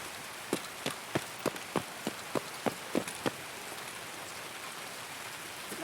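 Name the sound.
rain falling in a video game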